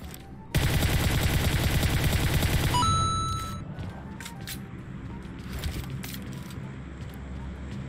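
Rapid burst of automatic gunfire in the mobile battle royale game PUBG Mobile, loud and dense for a couple of seconds, then fading into quieter ambient game sounds with faint scattered shots.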